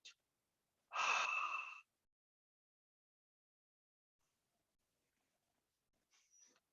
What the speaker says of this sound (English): Ocean breathing exhalation with your mouth.